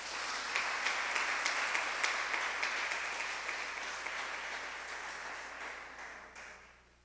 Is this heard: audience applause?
yes